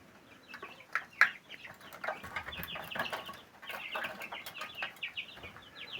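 Chicks and hens clucking and peeping nonstop in a poultry pen, a dense chorus of overlapping high calls with one sharper squawk near the start, fairly close.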